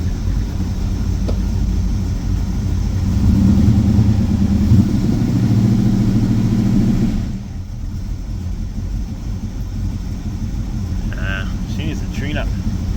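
A Ford Falcon XD engine runs at a steady idle, a low rumbling drone that swells slightly louder midway and then settles back to a lighter hum, with faint voices in the background.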